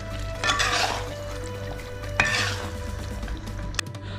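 Fried chicken is stirred into masala in a pan: a couple of scraping, sizzling sweeps up close, with a sharp utensil clink near the end.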